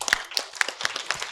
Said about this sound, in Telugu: ఇక్కడ ప్రతి పేరెంట్కి మనం గట్టిగా చప్పట్లు కొట్టాలి